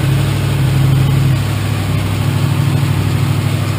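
A motorcycle engine idles close up: a loud, steady, low rumbling throb that holds even throughout, with no talking.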